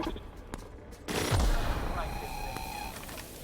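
Gunfire in The Outer Worlds, a short burst of shots after a sharp onset, layered with robotic announcements and a voice amid a busy combat mix.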